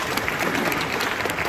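A crowd at a youth motivational tour event claps for a boy named Thomas, a brief, loud, dense burst of applause filling the room.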